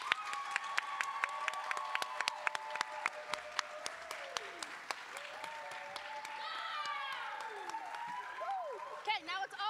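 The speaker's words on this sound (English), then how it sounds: "You may clap freely." A theatre awards night crowd claps, with scattered sharp claps standing out over a continuous wash; a voice speaks and makes tonal sounds throughout, and excited cheers and whoops rise near the end.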